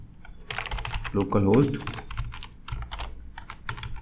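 Fingers tap out localhost on a computer keyboard while a Laravel project runs on a local server, giving a quick run of close, crisp keystrokes with a brief voiced sound partway through.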